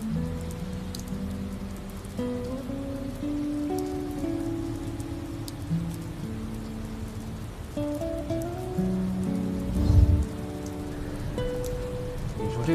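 Rain falling steadily outdoors, a continuous soft patter on surfaces under a quiet background hum, no voices.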